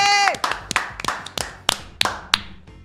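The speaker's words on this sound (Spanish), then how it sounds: "Vamos a recibirla con un fuerte aplauso" A studio audience welcomes a guest on an Argentine talk show with several sharp, close hand claps in an irregular rhythm, the opening ones overlapping a brief voice.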